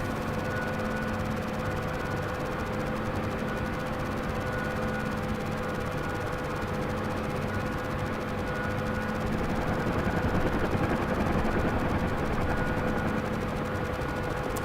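UH-1H Huey helicopter lifting off in DCS World, a steady close rotor and turbine drone with a constant whine and faint blade chop, swelling slightly toward the end.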